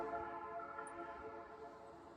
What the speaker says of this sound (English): do you hear that? That's Alaska train.